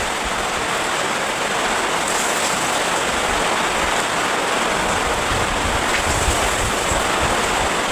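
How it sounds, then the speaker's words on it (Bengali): Heavy torrential rain pours down in a steady, dense hiss, loud and unbroken throughout with no voices. "মুসলধারায় বৃষ্টি হচ্ছে"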